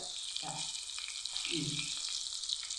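Fish sizzling as it fries in hot oil for a Kerala fish fry, a steady bright crackle throughout with brief low background voices in a home kitchen.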